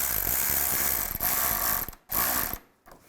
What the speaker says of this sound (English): And tighten down the clamp.